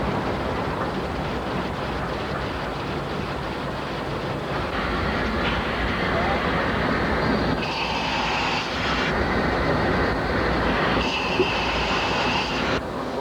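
A standard-gauge steam train rumbles steadily along the track, a continuous heavy mechanical drone with clanking and shifting tones, heard fairly close.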